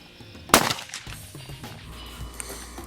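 A single rifle shot fired through a riflescope cracks out sharply about half a second in, followed by a brief echoing tail, then quiet ambient noise.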